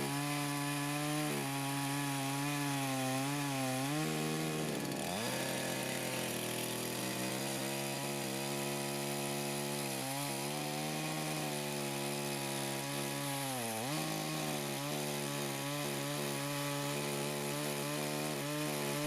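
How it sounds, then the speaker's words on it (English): Chainsaw with a freshly sharpened chain cutting hard apple wood near the root, engine loud and continuous for the whole stretch, pitch dipping as the chain bites and rising again between cuts, with no talk. "You can feel that the chain is cutting wood."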